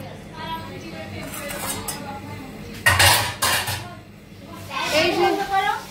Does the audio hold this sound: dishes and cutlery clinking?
yes